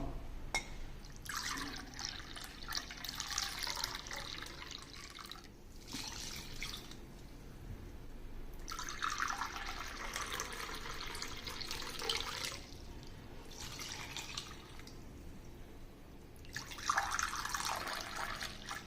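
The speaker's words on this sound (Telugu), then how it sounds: "బెల్లం ఒక కప్పు తీసుకోండి తీసుకొని ఇందులో రెండున్నర కప్పు వాటర్ పోసుకొని ఈ బెల్లం అంతా కరిగే వరకు మనం కలుపుకుందాం" Water is poured in three separate bursts onto a cup of jaggery in a kitchen pot for a rice sweet, each pour a close, splashing trickle with quieter pauses between.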